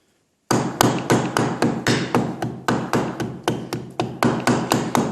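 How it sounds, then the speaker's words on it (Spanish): Rubber mallet tapping the two crankcase halves of a Walkerjet 200 paramotor engine together, a loud close series of about twenty quick, even knocks over five seconds with no talk. "Con pequeños toques de martillo de goma, como podéis ver, ya hemos aproximado los dos semicárteres."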